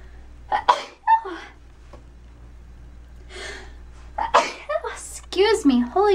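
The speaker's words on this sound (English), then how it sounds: "I was trying not to sneeze" A sharp, explosive sneeze up close, preceded by a few gasping breaths and followed by more breathy vocal sounds.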